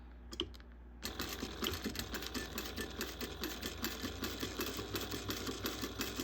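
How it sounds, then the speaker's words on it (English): A sewing machine stitches along the edge of a bag in a rapid rhythmic chatter. The stitching starts after a few brief taps and continues steadily for about five seconds, close and clear with no talking. "we're going to sew right along this edge right here of where we cut, and right next to the ear"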